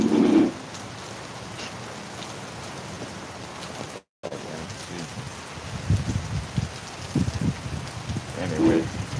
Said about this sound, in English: The rain whipping under here.